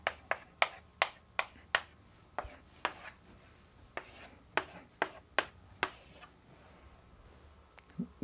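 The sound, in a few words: writing characters by hand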